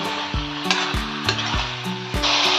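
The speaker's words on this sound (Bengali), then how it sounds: "এখন আমি লবণ হলুদ দিয়ে কষাচ্ছি।" Cauliflower sautéed with salt and turmeric sizzles steadily in a pan, with a spoon stirring and scraping in several periodic strokes and a fuller burst of frying near the end; no one speaks.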